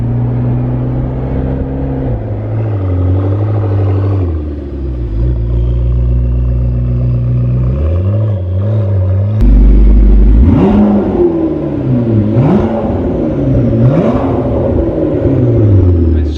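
A rebuilt McLaren sports car after wreck repair drives off, its engine humming and rising in pitch through several revving surges and gear changes, loud and close throughout.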